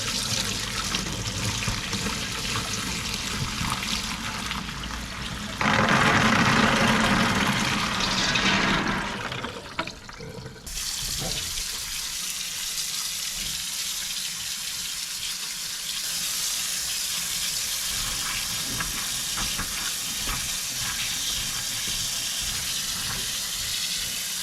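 Water pours steadily over soaked black beans in a colander as they drain and rinse, a loud close splash that shifts in tone partway through and then continues more gently.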